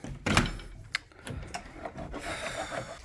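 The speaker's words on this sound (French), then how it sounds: "C'est quoi comme scie que tu utilises? C'est une scie à bois?" Hand saw cutting through wooden moulding, with a few uneven rasping strokes up close at first and then lighter, steadier scraping.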